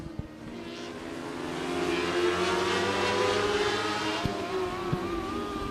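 Pack of 600cc stock non-wing micro sprint race cars circling a dirt oval, a dense sustained engine roar with whining pitch rising and falling as the cars lap, somewhat distant and unbroken.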